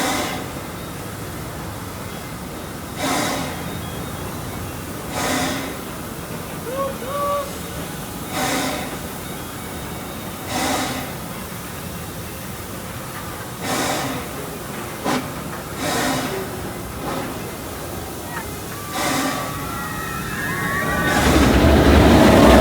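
Steam bursts from the cylinders of a zoo or amusement park train locomotive at departure, coming as regular rhythmic chuffs every couple of seconds over a constant hiss, with rising rumble at the end.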